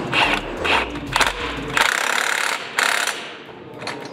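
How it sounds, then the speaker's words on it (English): A hand ratchet with a wobble extension snugging down bolts on a Tacoma spindle gusset, close clicking and grinding bursts in short uneven runs, then a couple of longer ratcheting passes that trail off. "stick a wobble in there and snug that down ahead of time so we don't have to fight it later"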